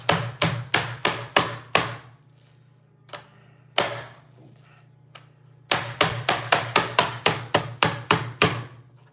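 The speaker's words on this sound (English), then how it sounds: "just tenderizing this up a little bit, hammering it down" Skirt steak pounded with a meat tenderizer, sharp thuds in quick runs of blows separated by short pauses, close and loud with no speech.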